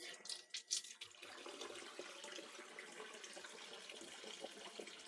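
Hot water running from a household tap during a gas engineer's boiler visit, a steady hissing stream that follows a few louder splashy bursts at the start and carries on evenly at moderate level.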